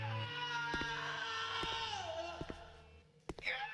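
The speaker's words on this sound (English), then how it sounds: "Are you just gonna keep screaming at me until the end of time?" A ghostly voice wails and moans in a long, wavering cry over an eerie drone, broken by sharp clicks and knocks, ending in a brief rise of noise.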